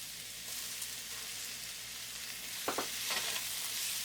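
Green and yellow capsicum with onion frying in a pan for chicken fajitas, a steady close sizzle throughout with a couple of brief stirring scrapes near the end.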